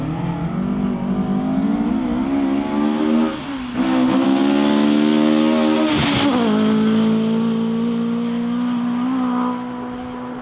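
Classic rally car on a stage in the Ardennes during the Boucles de Bastogne, engine loud and close as it passes, revving up, easing briefly, then climbing again before fading slightly.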